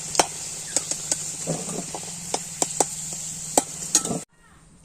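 Fried potatoes with a little turmeric lifted out of hot oil: a steady sizzle with repeated sharp metal clinks of the utensil against the pan, close and moderately loud, cutting off abruptly near the end.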